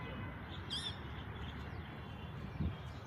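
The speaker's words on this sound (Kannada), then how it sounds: "ಎಷ್ಟೊಂದು ಗಿಳಿಗಳಿದಾವೆ ಇಲ್ಲಿ." Parrots by a lake give a few faint, distant chirps and squawks over a steady outdoor background rumble.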